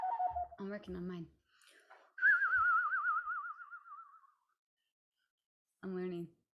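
A person on a music education podcast whistles one wavering, vibrato tone for about two seconds, alone and close to the microphone, with brief speech before and after it.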